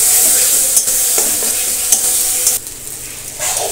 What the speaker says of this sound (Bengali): অনবরত নাড়াচাড়া করে আমি ভর্তাটা রেডি করে নেব